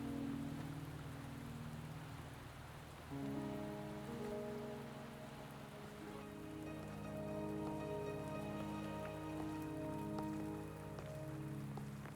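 Steady rain patters on surfaces in the video game Wuthering Waves, a constant close wash of drops beneath soft sustained game music, with no voices.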